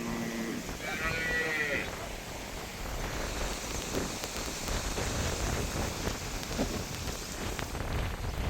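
Cattle being let out of their pen in a rural village, with several low bellowing calls at the start, then a steady shuffling, rain-like rustle of the moving herd close by.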